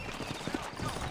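Horse hooves clip-clop in the video game Red Dead Redemption, set in New Orleans: a quick, uneven run of close hoof knocks over a busy background with a faint murmur of voices.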